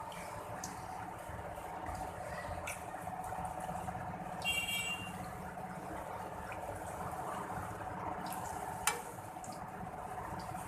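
Dahi bara lentil dumplings frying in oil over a very low flame, giving a faint, steady sizzle with a few soft clinks, quiet and continuous.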